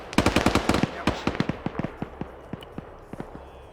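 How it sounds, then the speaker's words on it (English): Rapid bursts of gunfire in a tactical video game, a quick volley of sharp shots followed by scattered single and paired reports that thin out and grow fainter, with no voices over them. "Just follow the gunshots, guys."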